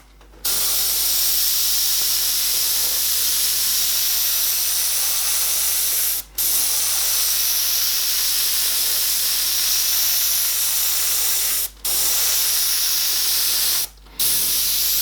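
An airbrush sprays paint in a loud, steady hiss, cut by three short breaks where the trigger is released.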